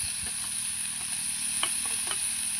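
Tomatoes, neither ripe nor raw, sizzle in a pan over a wood-fired clay stove while chutney is made, a steady low frying hiss with a few soft stirring scrapes and taps.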